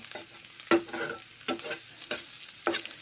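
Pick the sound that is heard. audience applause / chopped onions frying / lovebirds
chopped onions frying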